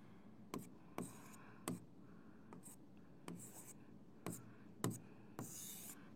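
A pen scratching out numbers by hand on paper, a series of short, soft strokes and taps in an irregular rhythm, close and quiet with no talking.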